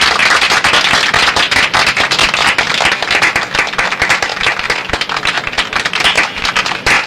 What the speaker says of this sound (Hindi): मिनिस्टर जी की ताली बजाने के अंदाज से लगता है कि वो खुश नहीं है।